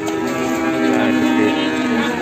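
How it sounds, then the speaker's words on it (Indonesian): A Limousine calf at a cattle market in Ambarketawang, Sleman gives one long, loud, close moo that holds steady for about two seconds. "ganteng sapi nih."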